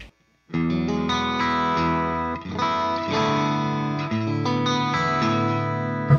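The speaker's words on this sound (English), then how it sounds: "I'm hearing a little bit of harmonic distortion of the amplifier." Electric guitar through a 1960s Fender amplifier with gritty harmonic distortion, sustained chords ringing loud and steady with brief gaps, no voices.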